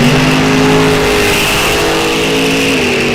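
Drag racing cars, one a very fast Corvette, roar loudly side by side at a state championship drag strip, a dense, sustained engine blare with rising revs filling the whole moment.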